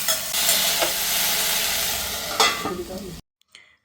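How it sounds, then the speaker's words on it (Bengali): Okra and potatoes sizzle and crackle in a hot pan while being stirred, with a couple of louder scraping clatters before the sound cuts off abruptly. "এবার সবগুলো উপকরণকে ভালোভাবে মিশিয়ে নিয়ে ঢাকা দিয়ে ভেজে দেবো ভালো করে।"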